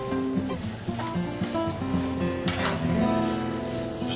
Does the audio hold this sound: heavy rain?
no